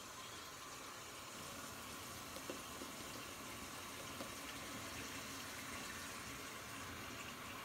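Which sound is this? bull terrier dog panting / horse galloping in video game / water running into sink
water running into sink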